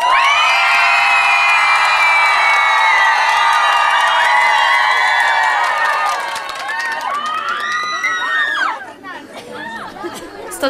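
Village karaoke audience in Yavoriv cheering and shouting for a contestant, loud sustained crowd voices and whoops, tailing off into scattered shouts near the end.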